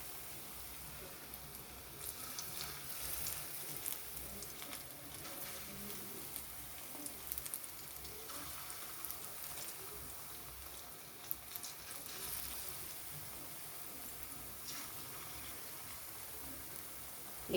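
Banana fritters frying in hot oil, a faint, steady crackling sizzle like light rain that holds evenly throughout with small pops scattered across it.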